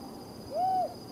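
A Desert Tawny Owl gives a single clear, drawn-out hoot from a canyon in eastern Israel at night, ringing out alone over a faint, quiet background.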